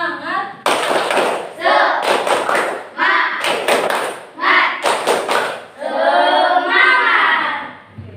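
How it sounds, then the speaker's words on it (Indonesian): A classroom of children performs the rhythmic 'tepuk semangat' clapping routine, loud patterned bursts of claps in quick groups separated by short pauses, with children's voices chanting along between and over the claps. "Tepuk semangat."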